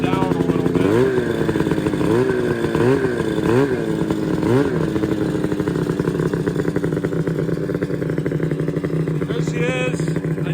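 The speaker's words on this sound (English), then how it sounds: "So I got her running a lot better. I still gotta tune the idle down a little bit." A Ski-Doo MXZ snowmobile engine runs steadily at a rough idle, with a few quick revs early on before settling into a continuous close drone.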